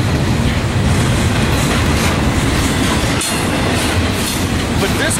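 A long freight train on a busy mainline at Fullerton rolls past close by, a loud, continuous roar of wheels and rail clatter filling the whole span with a brief dip midway.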